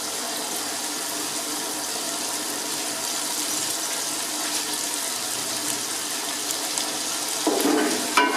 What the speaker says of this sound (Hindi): अभी भिंडी को पकते हुए 2-3 मिनट हो गए।